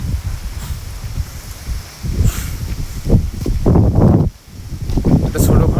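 Strong wind gusts during a storm on the eve of Eid, roaring and rustling foliage close to the microphone in surging waves with brief lulls, with no speech.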